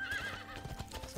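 A horse whinnies in the Hearthstone video game, a high wavering neigh followed by quick hoof clip-clops, loud and close with no talking.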